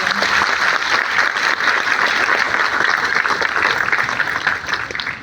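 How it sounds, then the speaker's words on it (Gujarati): Sustained, dense applause from an audience for the Gana Group at a function, loud and steady throughout with no pauses, fading slightly at the very end. "તો આવા ગાના ગ્રુપ માટે એકવાર જોરદાર તાળીઓ આપો."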